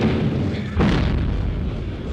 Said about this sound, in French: Un peu partout, les salves éclatent, tirées par d'antiques fusils gras, de vieilles pétoires datant de la conquête.